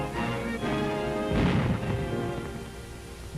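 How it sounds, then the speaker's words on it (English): Artillery fire from Dutch batteries trying to destroy bridges during the German invasion of the Netherlands in WWII, a dull boom over a steady noisy background, with no talk. "By fierce artillery fire, Dutch batteries are still trying to destroy the bridges."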